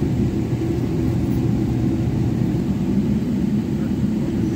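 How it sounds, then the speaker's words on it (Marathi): Steady, loud low rumble of an airliner cabin at Chicago's airport as the plane readies for takeoff, a continuous engine drone with no distinct events. "मे बी आम्ही टेकऑफसाठी रेडी होतो आहे."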